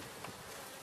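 Honey bees buzz steadily at an open hive during an inspection, a dense, continuous swarm drone close by with no voices.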